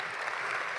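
Brief dense applause from a commencement audience, a steady wash of many hands clapping at constant level, heard alone.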